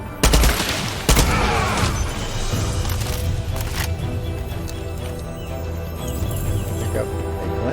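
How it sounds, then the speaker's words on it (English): Automatic assault rifle fire in the video game Far Cry 6, sharp loud bursts at the start and around one second, then a steady din of continuing gunfire and mechanical game sounds. "That's the assault rifle."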